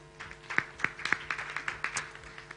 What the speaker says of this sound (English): A hand of applause